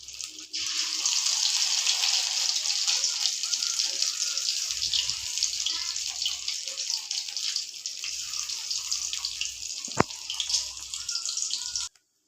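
Pumpkin leaf fritters coated in lentil batter fry in a kadai of oil on medium heat, giving a continuous close, even sizzle that lasts throughout. A single sharp click cuts through near the end.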